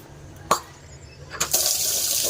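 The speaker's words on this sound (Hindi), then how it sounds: "पानी आ चुका है, मैं पीने का पानी भर लेती हूँ" Tap water running into a drinking-water container: a soft, steady rush of filling water with a couple of sharp clunks from handling the vessel, then the flow swells louder near the end.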